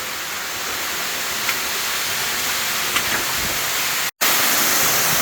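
Igutan Falls, a waterfall deep inside a dark cave, a steady broadband rushing hiss of falling water with a couple of faint knocks, broken by a momentary dropout near the end.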